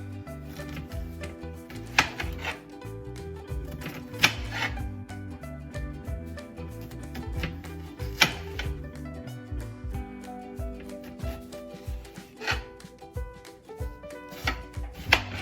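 A large kitchen knife chops food on a board in a steady series of close thuds and scraping cuts, with sharper knocks every couple of seconds amid the continuous rhythmic chopping.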